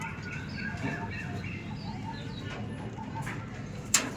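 Andhra pigeons coo softly in a quiet loft, low murmuring calls mixed with faint background sounds and a sharp click near the end.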